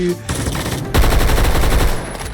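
Rapid automatic gunfire from a game weapon, a dense string of loud close shots that stops briefly and then returns in a longer sustained burst.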